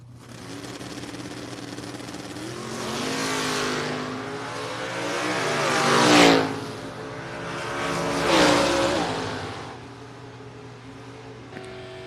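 Drag racing cars, including Mike Chronister's Mustang, roar down the strip at a Fall Brawl event, the engine noise swelling and falling in two loud surges partway through. A public-address announcer's voice carries faintly underneath.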